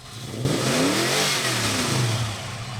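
Cars revving at a Port Augusta car rally and show-and-shine, a loud nearby engine climbing and falling in pitch through a couple of throaty revs amid steady crowd and outdoor noise, with no talking.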